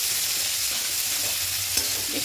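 A spinach and fish-head curry sizzles in a frying pan while being stirred, a continuous close hiss of frying with soft scraping strokes and no talk.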